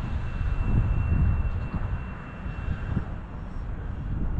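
A jet-powered flying wing model aircraft roars steadily at full throttle in flight, a continuous broadband engine rush with wind buffeting that stays loud throughout, with no talk heard.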